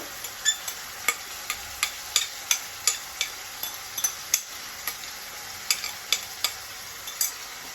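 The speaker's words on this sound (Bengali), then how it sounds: "আপাতত এটা একটু নাড়িয়ে নিই" A spoon scrapes and taps around a frying pan of spices in a steady rhythm, with soft regular strokes over a faint background sizzle.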